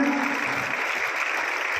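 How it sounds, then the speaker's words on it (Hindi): Loud, dense applause from an outdoor rally audience in Khanda Kheri, Hisar, a continuous wash of many hands clapping at close range with no pauses. "जोरदार तालियों से उनका अभिनंदन"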